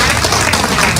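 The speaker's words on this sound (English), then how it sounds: "That is an applause." Applause at a congressional press conference, a dense continuous clatter of many hands clapping at steady loudness for the whole moment, with no voices over it.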